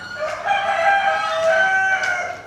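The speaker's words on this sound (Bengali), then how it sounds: "বিভিন্ন জাতের মুরগি। ওই যে আওয়াজ দিছে," A rooster crows loudly and close on a farm among mixed breeds of chickens, one long drawn-out cock-a-doodle-doo filling the clip with a few faint clucks around it.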